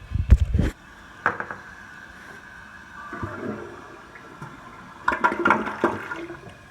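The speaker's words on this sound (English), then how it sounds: "we're going to flush that toilet one more time" A touch-flush toilet being flushed during an odor-removal job: a sharp click-and-rush at the start, a brief surge, then louder gurgling water swirling and draining near the end, close by with no talk.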